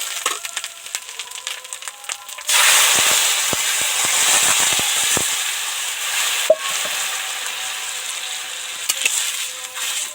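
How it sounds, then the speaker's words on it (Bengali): Hot water poured into a pan of fried moong dal sets off a loud, sudden sizzle that settles into a steady hiss with scattered crackles and pops, heard alone with no talking. "এবার যে জলটা গরম করে রেখেছি সেটাই ঢেলে দেব"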